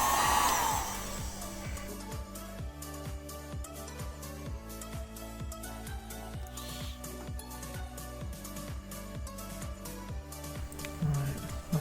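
A heat gun warms 3M vinyl wrap film on the interior trim of a Fiat Barchetta, giving a steady blowing whir that runs close and continuous for the whole stretch with no talking.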